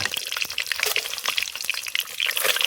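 Rupchanda fish pieces fry in oil in a pan at an outdoor forest cooking spot, giving a soft, continuous crackling sizzle with small pops and no voices.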